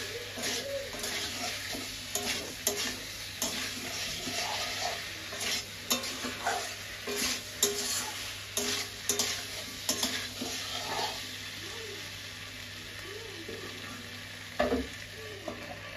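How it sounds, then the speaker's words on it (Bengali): Food sizzles steadily in a pan while a spoon stirs it, with repeated scraping clicks against the pan over a continuous fry. No one speaks. "এটা ভাজা ভাজা হোক"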